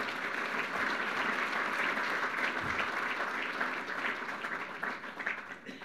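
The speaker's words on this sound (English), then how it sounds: "Ladies and gentlemen, please give them a round of applause for being here." Audience applause for scholars at a formal conference opening, a full room clapping steadily at close range, thinning slightly toward the end.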